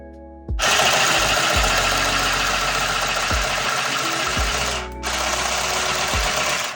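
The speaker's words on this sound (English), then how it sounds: "it goes through the fabric quite nicely" Mini handheld sewing machine stitching denim fabric: a loud, close, steady mechanical whirring drone that starts abruptly, dips briefly near the middle, then resumes. No one talks.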